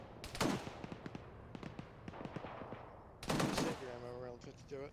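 Rapid bursts of rifle and machine-gun fire in the military game Arma 3, crackling in fast rhythmic strings with a heavy blast cluster midway, moderately distant, mixed with radio-like voices talking.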